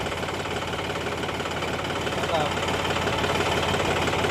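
A tractor engine runs at a steady, throbbing idle while spraying pesticide in a crop field, a continuous close mechanical drone with a voice talking over it.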